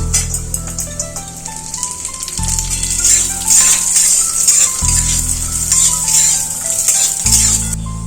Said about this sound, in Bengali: বাদাম কিশমিশ ভাজা হয়ে গেছে